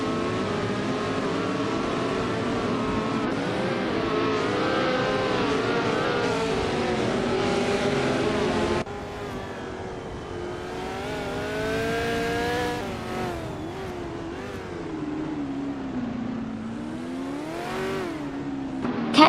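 Racing cars, including a 1966 McLaren M10A, in a racing game: a steady, sustained engine drone with shifting pitch and revving, heard close and continuous throughout.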